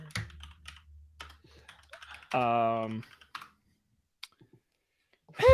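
Scattered clicks of typing on a computer keyboard, light and uneven, with speech-like sounds and a brief tonal burst around them.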